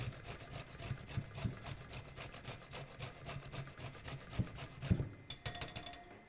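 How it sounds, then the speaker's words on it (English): Raw peeled celeriac is rubbed against a grater in steady, rhythmic rasping strokes, close and fairly quiet, ending in a brief flurry of faster scrapes. "So, raw peeled celeriac, grate it down,"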